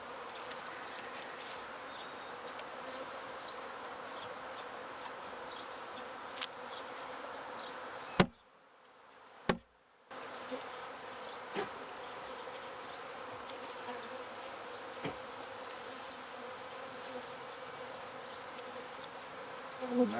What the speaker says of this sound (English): And we'll shake these bees out.